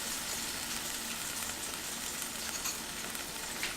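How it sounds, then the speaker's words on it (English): A roast sears in a hot pan with its ranch seasoning waiting, giving a steady, close sizzle and crackle of frying fat that runs unbroken throughout, with no voices over it. "You want to get a nice sear on all sides."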